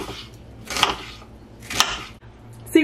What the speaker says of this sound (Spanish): quiero cortar en rajas más pequeñas esta cebolla morada